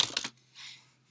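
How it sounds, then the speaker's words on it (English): A few quick keystrokes tap on a computer keyboard in a close burst, followed by near silence and a faint soft rustle. "Typing the wrong thing there."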